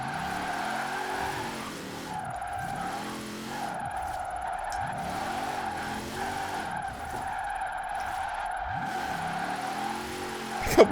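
A car in Forza Horizon 4 on an off-road handling tune drifts, its engine droning and revving in repeated swells while tires squeal through each slide, moderately loud and steady with no talk.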